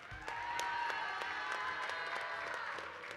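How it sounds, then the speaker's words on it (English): Applause for the Red Alliance teams at a middle school VEX V5 robotics state championship in Arizona, a crowd clapping steadily in a large venue for about three seconds, with scattered cheering mixed in. "Give a round of applause for your Red Alliance."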